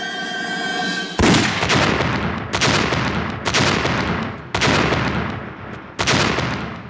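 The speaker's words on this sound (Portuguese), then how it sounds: "Toby leva um tiro. Não apenas leva um tiro, mas em vários ângulos diferentes" Gunfire in a scene from The Office TV series: five loud, sharp shots at irregular intervals, each followed by a short ringing decay, after a brief steady lead-in.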